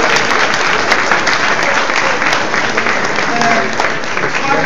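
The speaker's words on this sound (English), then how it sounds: "could you give all these committee people a round of applause?" Loud, steady applause from a crowd at a St. Louis community event, honoring the committee members, sustained and dense throughout with a few faint voices mixed in.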